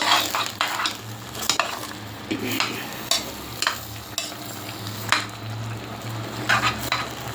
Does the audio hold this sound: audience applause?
no